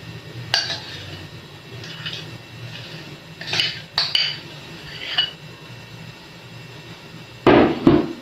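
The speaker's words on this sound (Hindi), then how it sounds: "अब हम इसे मिक्स कर लेंगे" Bread being stirred into boiling milk in a pan for milk barfi: a spoon scrapes and clinks against the pan in short, separate bursts, close by, with a louder clatter near the end.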